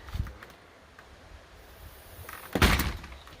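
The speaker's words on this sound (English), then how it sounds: "Screen door." Screen door on a cabin being worked: faint rattling and handling, then a solid thump as it swings shut near the end, quiet and close with no talk.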